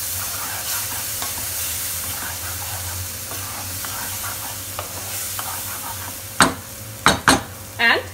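Masala gravy with green paste frying in a pan while being stirred, a steady sizzle under soft scraping, then a few louder clinks of a spoon against the pan near the end.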